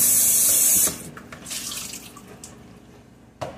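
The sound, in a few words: rinsing a bowl with cold tap water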